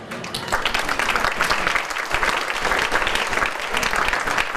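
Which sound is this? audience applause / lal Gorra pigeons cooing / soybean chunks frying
audience applause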